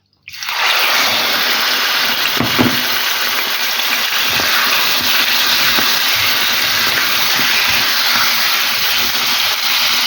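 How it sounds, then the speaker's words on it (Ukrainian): Chicken liver sizzles in about two tablespoons of hot oil in a frying pan, a loud, steady hiss and crackle that starts abruptly and holds without pause, with a few faint clinks. "Печінку буду смажити 3 хвилинки, не довше."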